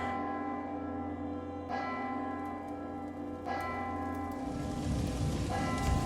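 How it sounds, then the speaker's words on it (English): Bells peal in a video game, marking the birth of a new crown prince: three struck chimes ring out over a sustained tonal drone, each strike followed by a lingering decay, alone with no talk. "Oh, the bells are ringing!"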